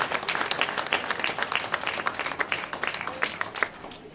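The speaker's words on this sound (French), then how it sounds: "tonnerre d'applaudissements pour ce moment magique" Applause at an awards ceremony for the Ultimate Race 2017, a dense, steady crowd clapping that stays loud and continuous throughout.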